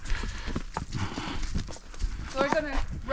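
Horse hooves walking along a trail in Denali National Park, with irregular soft clops close by, mixed under people talking nearby and a brief higher vocal sound near the end.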